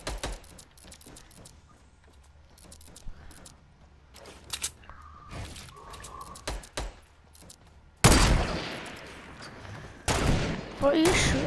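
Video game gunfire in Fortnite: scattered faint shots and clicks for several seconds, then a louder dense burst of firing near the end, with players talking over the game.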